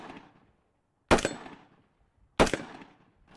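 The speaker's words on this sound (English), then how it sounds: "I'm going to shoot those close range flipping action targets" Two sharp gunshots about a second apart, each with a bright metallic ring from a close-range steel flipping action target, decaying quickly into silence.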